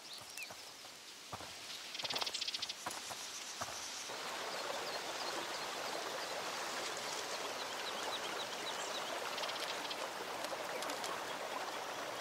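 Flowing stream water in the video game A Plague Tale: Requiem, a steady soft wash and trickle running continuously, with a few sharp clicks and brief knocks early on.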